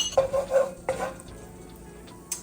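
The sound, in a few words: butter and olive oil sizzling in a pan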